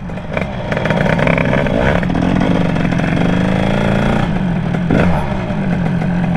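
A Derbi motorcycle engine, tuned with a Bidalot WR setup, idles steadily and close by with a weak idle, a low uneven chugging with light mechanical clatter and a brief rise in revs near the end.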